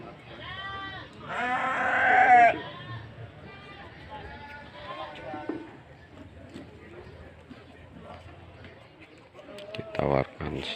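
Goats bleat repeatedly at the Sumpiuh livestock market in Banyumas, Central Java, with a loud wavering cry early on and more calls through a busy morning crowd, mixed with people talking nearby.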